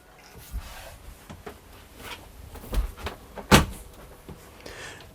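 A toilet door inside a Bailey Unicorn Cabrera caravan is handled, giving a few soft knocks and rattles and then one sharp, loud latch click near the middle, close by with no talk.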